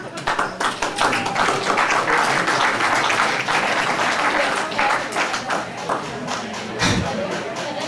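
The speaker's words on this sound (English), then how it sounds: "Good applause." An audience at a small music showcase breaks into loud applause, a thick wash of clapping that gradually thins into scattered individual claps, with a voice briefly audible among them.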